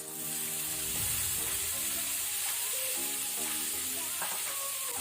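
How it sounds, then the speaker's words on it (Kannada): Chopped tomatoes frying in a pan with onion, ginger and garlic over medium flame, a steady loud sizzle with occasional stirring scrapes and no talking. "ಈಗ ನಾವು ಟೊಮ್ಯಾಟೊವನ್ನು ಸಹ ಒಳ್ಳೆ ಫ್ರೈ ಮಾಡಬೇಕು."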